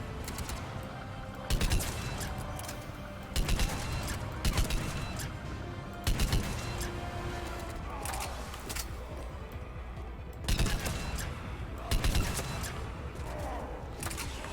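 Heavy rifle fire in a Mass Effect 3 battle: about six loud, separate bursts of shots every couple of seconds, each a short rapid volley over a constant background of combat noise.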